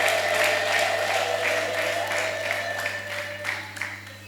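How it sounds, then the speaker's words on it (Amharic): Church congregation ululating in sustained, high trilling tones, joined by rhythmic clapping, making a loud, continuous crowd sound throughout. "እስቲ ደስ ያለው አለ እልልታ ያለው እልልታ ለጌታ እልልታ ያለው"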